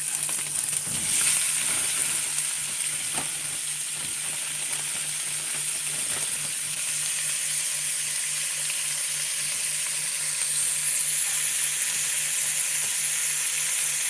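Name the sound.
beef skirt steak cubes frying in a pan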